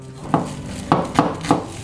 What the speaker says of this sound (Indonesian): Berikutnya kita mau iris-iris bawang merah